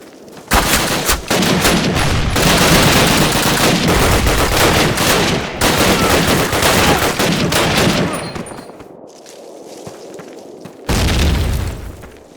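Dense, loud gunfire and booming blasts from a World War II firefight in Call of Duty (2003), sustained bursts for about eight seconds, then a lull of quieter scattered shots before another loud burst near the end.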